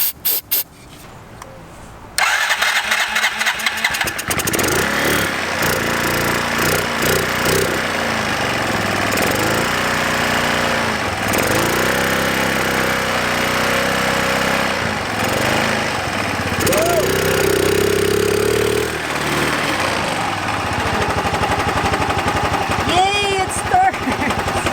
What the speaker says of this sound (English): we actually got the scooter started. It seems to be running okay.